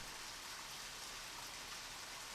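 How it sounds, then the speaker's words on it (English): Steady rainfall in the video game Deadly Premonition, a faint, uniform patter and hiss of rain with no distinct drops or voices. "Now it's just always It's just raining. permanently raining."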